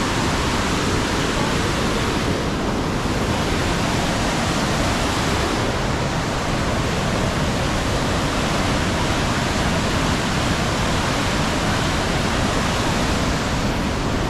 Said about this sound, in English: Holy smokes! That is some raging water.